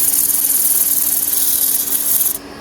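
A continuous abrasive rasp of a spinning 120-grit sanding disc grinding off excess hot melt glue, steady and close, cutting off abruptly near the end.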